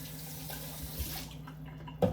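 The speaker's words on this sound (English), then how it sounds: "I am gonna add water." Water pouring into a blueberry raspberry lemonade drink, a soft steady stream heard close and quiet for a couple of seconds, ending with a small splash.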